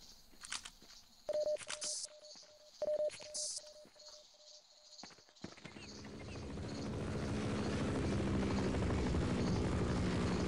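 A helicopter in the first-person shooter Half-Life, heard first as sparse game sounds and beeps, then as a rotor roar that swells in and builds to a loud, steady drone that fills the second half.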